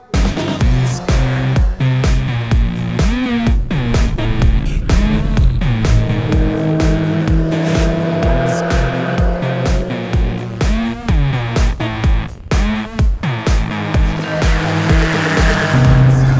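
A Toyota MR2 (AW11) track-built race car engine screams through rising and falling revs as it drives hard on a track, loud and continuous, with tires squealing through the corners.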